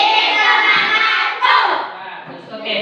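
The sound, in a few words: class applauding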